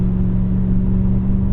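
A 2001 BMW E39 M5 V8 engine runs at a steady, heavy drone with a strong low rumble, close and loud, with no voices.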